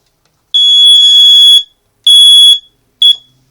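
A fire alarm blares during an unexpected system test. It gives a loud, piercing electronic tone for about a second, then a shorter one, then a brief chirp, with silence between the bursts.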